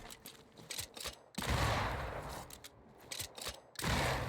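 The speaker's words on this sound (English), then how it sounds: "Okay, we have to shoot it." Bursts of gunfire in the video game Banishers: Ghosts of New Eden, with loud broadband blasts breaking in at intervals over a busy game soundscape and no talk.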